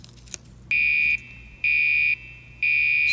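A Gentex Commander fire alarm sounds from a distance in three identical, evenly spaced half-second electronic horn blasts, each a steady high tone over a quiet background hum.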